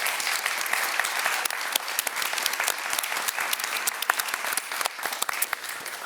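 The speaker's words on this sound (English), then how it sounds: "Can I get a round of applause for our panel," An audience applauds a panel at a discussion on technology for peace and climate change, steady clapping with many sharp individual claps, moderately loud and sustained throughout with no talk.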